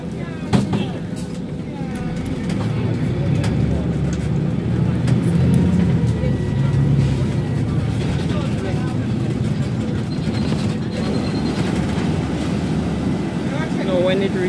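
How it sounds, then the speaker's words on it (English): Steady low engine rumble and road noise fill the inside of a JUTC city bus as it rides around town, with wind buffeting and faint background voices throughout. "it's all about round the city in the JOTC bus"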